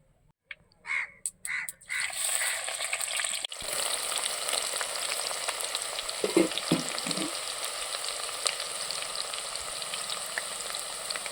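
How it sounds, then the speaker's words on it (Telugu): Chopped onions go into hot oil with spluttering mustard seeds for a village-style fish curry: a few sharp isolated pops come first, then a steady, close, fairly loud sizzle that runs continuously to the end. No one speaks. "ఆవాళ్ళు చిట్టుపట్లు ఆడేసి ముందుగా తరిగి పెట్టుకున్న ఎర్రగడ్డ ముక్కలు వేస్తున్నా."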